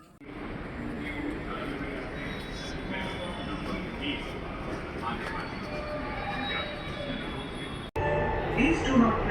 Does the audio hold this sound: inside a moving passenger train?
yes